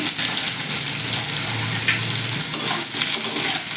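Salted vegetables sizzle steadily in a hot pan, being cooked for a vegetarian water spinach curry; the close, continuous crackle is lightly stirred, with no talking.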